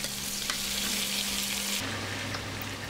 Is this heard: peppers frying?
yes